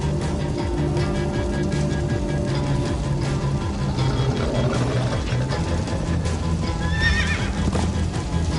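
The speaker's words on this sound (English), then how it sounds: "Guys, look! Horses!" Horses in the Minecraft Story Mode video game whinny loudly and repeatedly over a steady clip-clop of galloping hooves, with game music and effects running continuously beneath.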